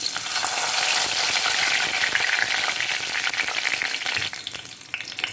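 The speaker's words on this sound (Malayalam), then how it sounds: "ഇനി നമുക്കൊരു ചട്ടി അടുപ്പത്ത് വെച്ച് വെളിച്ചെണ്ണ ഒഴിച്ചു കൊടുക്കാം ഒരു കണ്ട് കറിവേപ്പില ഇട്ട് കൊടുക്കുക" Curry leaves sizzle loudly and steadily in hot coconut oil in a pan on the stove, a dense crackling hiss that barely changes before thinning slightly at the end.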